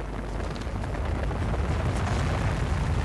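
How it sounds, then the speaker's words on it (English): An ILS Proton rocket lifting off from the Baikonur Cosmodrome in Kazakhstan, a continuous deep, loud rumbling roar with no break. "And we have liftoff of an ILS Proton rocket from the Baikonur Cosmodrome in Kazakhstan"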